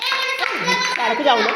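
Schoolchildren in a classroom clap their hands together in a brief round of applause, the claps mixed with and partly masked by children's voices and talking.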